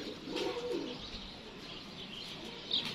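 A champion pigeon on a rooftop coos softly amid faint outdoor ambience, a low, murmuring call heard at a moderate distance with a few small chirps.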